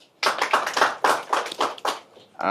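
An audience at a Tanzanian journalism awards event claps together in bursts of applause that rise and fall for about two seconds, followed by a voice starting up.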